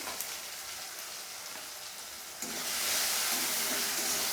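Chopped onion dropped into hot oil with tomato and spices, a soft hiss that suddenly swells into a louder, steady sizzle.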